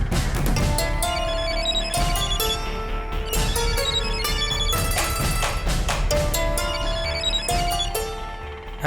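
Phone ringing with a loud, melodic ringtone that repeats its musical phrase continuously at close range, with no talking over it.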